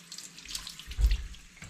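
A short burst of tap water splashes into a sink, swelling to a louder gush midway, as salt is rinsed from sausage casings under the stream.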